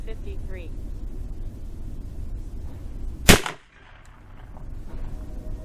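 A single sharp .40 S&W pistol shot fired with Speer Gold Dot ammunition cracks loudly and briefly in the middle, followed by a short decay, with steady background noise before and after.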